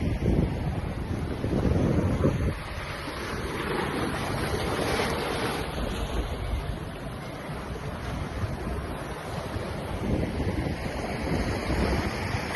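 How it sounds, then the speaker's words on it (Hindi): Sea waves wash onto the shore at French Beach in Karachi, a steady surf rush with swells building and receding, heard close with wind buffeting the microphone. "ये आप किनारे पे जब पानी टकराता है"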